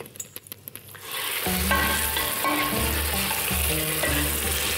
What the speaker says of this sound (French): Maintenant, on va mettre des petits pois dans la même huile